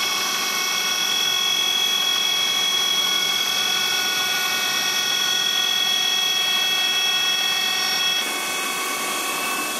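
A CNC machine cutter machines a Subaru wheel, giving a steady, loud high-pitched whine with many sustained tonal lines. The whine holds constant throughout and eases slightly near the end, with no talk.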